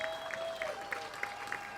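At a 50th musical anniversary celebration, an audience applauds a performer: soft, distant clapping with a few distinct claps standing out, heard faintly over a steady sustained tone in the room.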